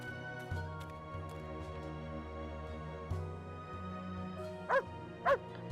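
Two short, fairly loud dog barks near the end, from a dog in the video game Dreamfall Chapters, heard over steady game music and ambience.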